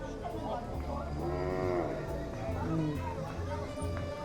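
Cattle on a farm let out several drawn-out, nearby moos, rising and falling, while people talk in the background.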